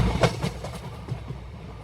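A train pulls into Gopalnagar station, its wagons rolling with a rhythmic clickety-clack of wheels over rail joints and a low rumble that eases as it comes in.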